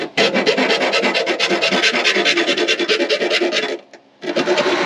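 A hand file rasps steadily back and forth over rough edges during a supercharger install on a Lexus RC F, loud and close in quick repeated strokes, with a brief pause near the end before filing resumes.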